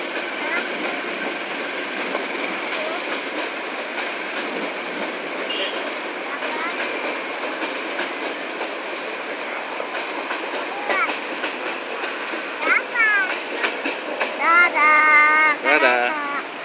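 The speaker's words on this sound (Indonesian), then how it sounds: "Ada kereta." A train rumbles steadily past a platform at Bandung station, Indonesia, with rhythmic clacking, then squealing wheels and louder clatter build toward the end; faint voices may be mixed in.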